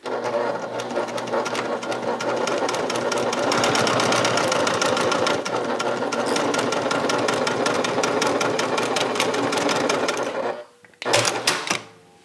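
A sewing machine runs fast and steadily, stitching a bag lining with a dense mechanical clatter, pausing briefly near the end before a short final burst.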